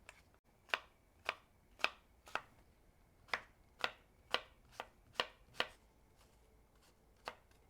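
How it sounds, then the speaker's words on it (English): A knife chopping a sweet Opal Gold apple on a cutting board: about a dozen crisp, evenly spaced chops, close and clear in a quiet room. "And I'm just gonna chop it up, not too small, not too big."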